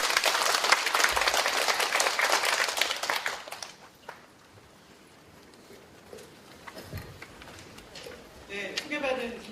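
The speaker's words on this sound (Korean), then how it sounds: "박수로 모시겠습니다." An audience at an Equal Pay Day policy forum breaks into dense, loud applause to welcome a guest speaker. The clapping is strong for about three and a half seconds, then fades to quiet room noise with a few scattered claps.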